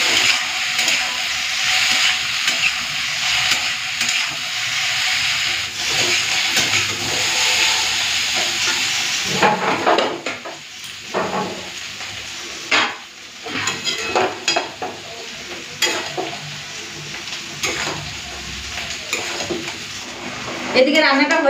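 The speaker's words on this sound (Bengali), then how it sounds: "ভেজে নিয়েছি, এরপর দিয়ে দিচ্ছি উচ্ছে আলু" Bitter gourd and potato fry with turmeric and salt in a pan, a loud steamy hiss at first that gives way to quieter sizzling and irregular clatters of stirring against the pan.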